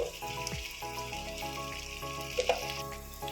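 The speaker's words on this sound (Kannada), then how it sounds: "ನೀಟಾಗಿ ಫ್ರೈ ಆಗಿದೆ ಈರುಳ್ಳಿ" Onions frying in a pan with salt for a paneer curry: a steady, close sizzle with faint stirring clicks, no voices.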